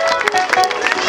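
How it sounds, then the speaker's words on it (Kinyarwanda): Gospel church congregation applauding during a service, a brief burst of dense clapping with voices mixed in, close and lively. "amashyi menshi cyane"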